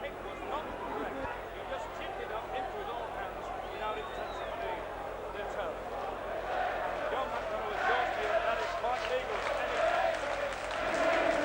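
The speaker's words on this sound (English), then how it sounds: "Crowd getting behind Wigan now." A rugby league crowd at a Wigan versus Warrington Lancashire Cup final cheers and roars for Wigan, a broad, steady swell of distant voices that builds slightly, under continuous commentary.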